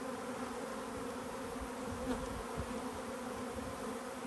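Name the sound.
honey bees buzzing at hive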